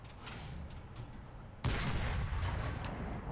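A tank cannon shot in War Thunder simulator battle, fired from a Pz.II H tank: one sudden loud boom partway through, following a stretch of steady engine and track rumble, with a long rumbling tail.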